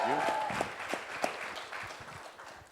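A press conference crowd claps for Dave Bautista, with scattered, fading applause and a few sharp camera-like clicks under some murmured voices and a brief tonal whine at the start.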